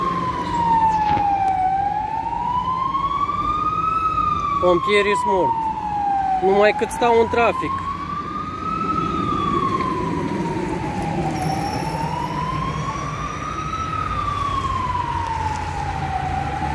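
An ambulance siren wails in slow rising and falling sweeps through city traffic in Iași, loud and continuous over rumbling engines, with a brief burst of honking partway through and someone speaking over it.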